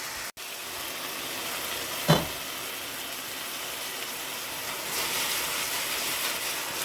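Tomatoes and peppers frying in a pan on a stove for Jamaican corned beef, a steady broadband sizzle throughout with one brief sharp clatter near the start and the hiss swelling slightly later on.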